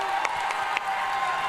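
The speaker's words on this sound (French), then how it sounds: "Est-ce qu'on peut faire un tonnerre d'applaudissements pour Roy?" A crowd applauds and cheers loudly for a finalist at a Just Dance competition final, a dense continuous wash of noise with a few sharper peaks.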